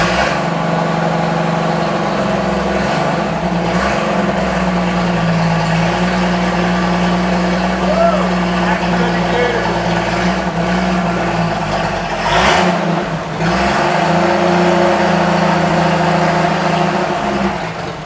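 A 1976 Toyota FJ40 Land Cruiser engine runs with no muffler, only downpipe and intermediate pipe fitted, and a carburettor needing tuning; loud, close steady idle with a deep rumble and a brief rev dip midway.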